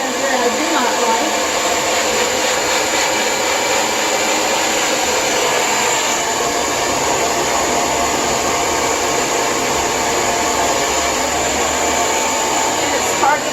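A Lange Soleil hair dryer runs with a loud, steady, high-pitched whir and rushing airflow that holds constant throughout.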